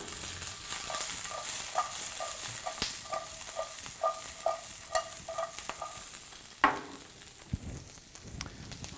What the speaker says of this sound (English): You want to keep everything moving in the pan. The idea is that the pan is so hot, if you don't, it will burn.